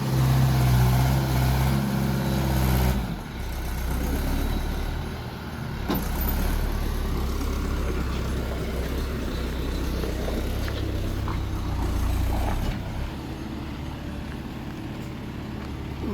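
A tractor engine labours steadily in rough, pothole-filled ground as its wheels slip and spin, a loud continuous low rumble that dips briefly and then surges again.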